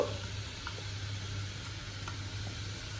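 Karapusa sev dough fries in hot oil with a continuous, even sizzle at close range, and a few faint clicks sit over the steady bubbling.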